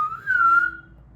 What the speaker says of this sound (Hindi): सीटी किसको मार रहे हो?